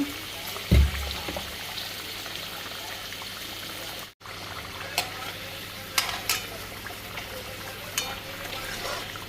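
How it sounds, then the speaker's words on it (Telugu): Potatoes fry in a pan as part of a mutton curry, giving a steady sizzle with stirring scrapes and a brief clatter near the start, continuing alone without talk. "ఆలుగడ్డ ఫ్రై అయిపోయింది"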